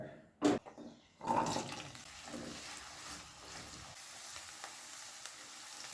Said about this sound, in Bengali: গ্যাসটাকে মিডিয়াম ফ্লেমে রেখে 3 থেকে 4 মিনিট আলুগুলো ভেজে নেব।